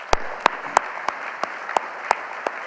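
Applause at an annual dinner, dominated by a few close, crisp claps in a steady slow rhythm over a faint wash of distant clapping.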